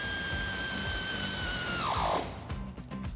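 A power tool fitted with an 8mm Allen socket drives a bolt home on a Jeep Wrangler JL during a lift kit install, giving a loud steady whine whose pitch falls as the bolt tightens before it cuts off abruptly.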